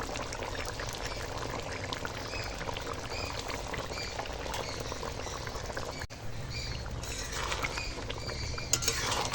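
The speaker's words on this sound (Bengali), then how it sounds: "এখন ফাটি রাখা টক দই দিয়ে দেবো এখানে টক দই আছে ফাটিয়ে নিয়েছি এবার দিয়ে দেবো ওপর থেকে" Whisked sour yogurt poured from above into a pot of cooked cauliflower and potato curry, a steady wet pouring and spattering sound lasting throughout, close and fairly loud with small clinks near the end.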